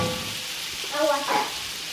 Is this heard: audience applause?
no